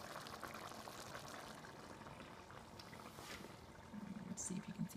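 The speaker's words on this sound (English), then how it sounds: "It's coming to a boil now." A pot of Mexican beef and potato stew comes to a boil on the stove, giving a steady, quiet bubbling hiss with a few louder burbling pops toward the end.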